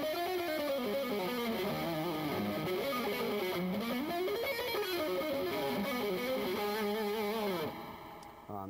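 Distorted electric guitar plays a flowing melodic phrase of connected notes that rise and fall with added passing tones, sustained and fairly loud before ending near the close.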